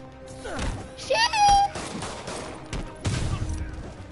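Gunfire in a Spider-Man video game during a storefront robbery, with a few sharp shots and bursts mixed among game effects and voices, a chirping electronic tone in the middle.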